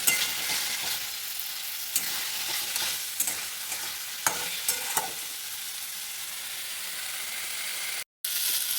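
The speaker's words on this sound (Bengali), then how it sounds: "আমি মশলাটা না তেল ছাড়া পর্যন্ত আরও একটু ভালো করে কষিয়ে নেবো" Spice masala being stir-fried in oil until the oil separates, a constant close sizzle broken by occasional spatula scrapes and clicks, with a brief dropout near the end; no voices.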